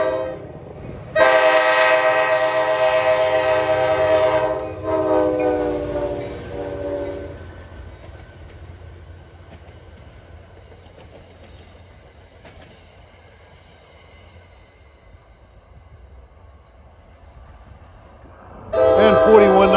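A New Jersey Transit EMD F40PH-2CATS locomotive sounds a loud, sustained horn blast at the Hollywood Avenue grade crossing in Ho-Ho-Kus. A rumbling, rolling train follows, and the horn returns briefly at the end.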